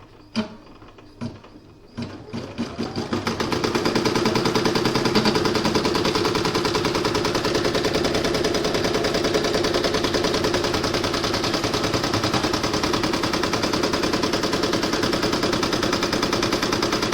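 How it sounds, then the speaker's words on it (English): A home embroidery machine stitching a Halloween-themed coaster for a second round of colour, starting with a few sharp mechanical clicks before settling into a loud, steady, rapid needle chatter that runs continuously without pause. "So next I'm going to pop it into my machine to do the next second round of stitching."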